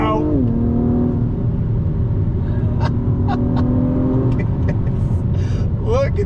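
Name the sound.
Acura TLX Type S accelerating on throttle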